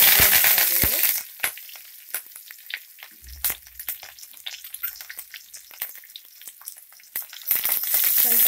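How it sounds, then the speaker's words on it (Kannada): Onion and curry leaves hitting hot oil with mustard seeds, a loud burst of frying that drops to a crackling, popping sizzle with sharp spatters, then swells loud again near the end. "ಈಗ ಈರುಳ್ಳಿ ಮತ್ತು ಕರಿಬೇವು ಹಾಕ್ತಾ ಇದ್ದೀನಿ"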